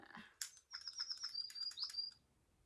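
Electronic toy birds on a thrifted seesaw toy give off a thin, high chirping tweet, a quick warbling run of chirps lasting about two seconds, faint and close with no talking over it.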